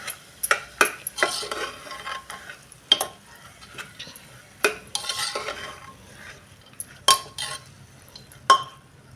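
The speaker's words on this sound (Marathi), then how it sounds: "मसूर परतत असताना त्यामध्ये टाकूया ह्या 10 ते 12 लसूण पाकळ्या आणि 1 इंच आलं" Lentils stirred and sautéed in a pan with crushed garlic cloves and an inch of ginger: a soft, steady sizzle under repeated sharp scrapes and clinks of a spoon against the pan, close and alone, with no voices.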